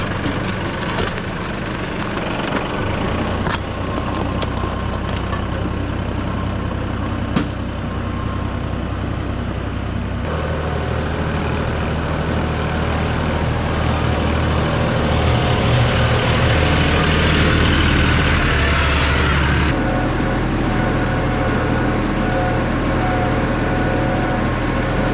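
A tractor engine labors continuously nearby while plowing and cutting dirt to build a road, a deep heavy rumble that shifts load and pitch over time, with no talking.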